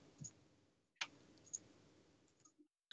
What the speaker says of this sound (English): you hear him clicking the mouse button